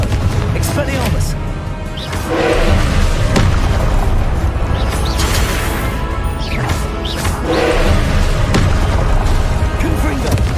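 Repeated spell blasts and booming impacts from the Confringo fire spell in Hogwarts Legacy, loud and continuous, mixed with other spell effects and muffled combat noise across the whole stretch.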